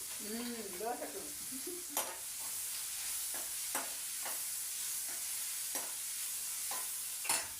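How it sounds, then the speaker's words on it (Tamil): Sliced onions fry on a dosa griddle during Chennai-style home cooking. A steady sizzle runs throughout, with a spatula scraping and stirring at regular intervals and a brief faint warbling tone near the start. "வெங்காயம் வதங்கட்டும்"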